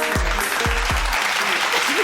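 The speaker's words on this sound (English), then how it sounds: "And the crowd goes wild." A crowd applauding and cheering, a steady wash of clapping throughout, with a few low thumps near the start and no speech.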